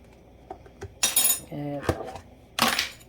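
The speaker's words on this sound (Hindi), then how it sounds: "इसी तरह इस पतीली को आलू उबालने के लिए रख रही हूँ और इसको ढक दूँगी।" A metal cooking pot set down for boiling potatoes clatters and clinks, followed by a short ringing metallic tone and a final clattering of a lid being placed on, all fairly close and quiet, without talk.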